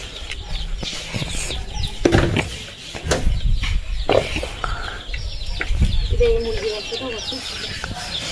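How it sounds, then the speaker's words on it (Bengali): A mother hen with her chicks in a rural Sundarbans yard, soft clucks and thin chick peeps scattered among knocks and handling noises, close by, with people talking intermittently. "মা এখন মুরগিগুলো তুলে নেবে।"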